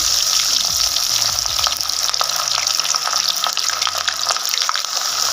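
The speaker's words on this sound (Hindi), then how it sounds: "ऑयल इतना डाला है कि जब हम इसमें चिकन का पीस डालेंगे तो वो डीप फ्राई हो।" Chicken pieces deep frying in plenty of oil in a kadai, a loud, dense, continuous bubbling sizzle with faint crackles, heard close and alone without speech.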